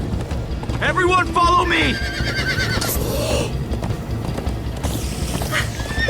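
Horses gallop and whinny during a chase in the video game Minecraft: Story Mode, steady clip-clop hoofbeats running under excited shouting voices and game music.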